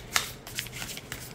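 A new, stiff oracle card deck is shuffled up close, with quick riffling bursts and soft card flicks, fairly quiet with no talking.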